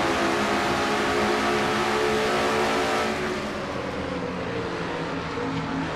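A Miller Genuine Draft Pontiac stock car roars from onboard during a race, its engine loud and sustained with a strong harmonic drone that eases slightly partway through.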